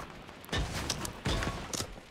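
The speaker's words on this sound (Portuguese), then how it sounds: "Tô ouvindo um tiro lá pro 15 ou 30. Tão atirando na minha base aqui" Two sharp, punchy bursts of gunfire in Fortnite about a second apart, loud and close, with a few lighter clicks between them and no talking.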